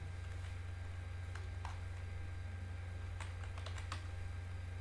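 Scattered keystrokes on a computer keyboard while C code is entered, faint irregular clicks in short bursts over a steady low hum, with no voices.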